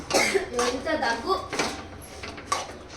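Several short, harsh coughs break out close by, interspersed with talking and a faint clatter of kitchenware.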